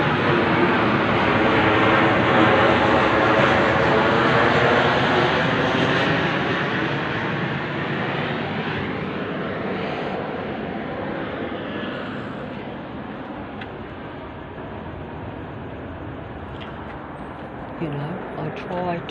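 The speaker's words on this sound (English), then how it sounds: "am I showing the frequency of the planes going over my head or not?" Airplanes pass overhead as a steady loud jet roar that slowly fades over about twenty seconds, with no talking heard.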